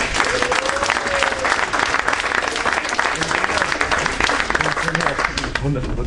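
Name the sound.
audience applause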